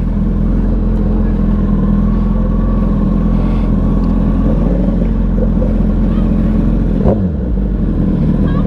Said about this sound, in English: here go all the bikes for the JJ3 ride out